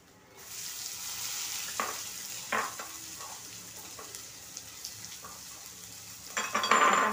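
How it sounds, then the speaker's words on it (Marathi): Chopped onion roasts in a pan for tomato thecha, a steady close sizzle with intermittent clinks of a utensil stirring against the metal, growing busier toward the end. "आता हा कांदा चांगला भाजून घ्यायचा."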